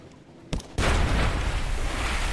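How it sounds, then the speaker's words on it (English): Ship's rear cannon firing in the naval game Sunless Sea: a short muffled thump, then a loud broad blast that rolls on as a sustained heavy rumble. "Let's see if I can fire my rear cannon on him"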